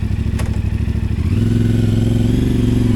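A CF Moto 450MT motorcycle engine runs close by, beginning with a steady pulsing idle before the revs rise into a smoother, louder drone.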